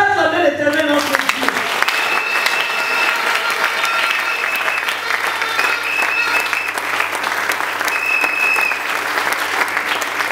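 Congregation clapping and cheering during a live church service in Kinshasa, sustained and loud throughout, with a voice heard briefly at the start and shouts rising from the crowd.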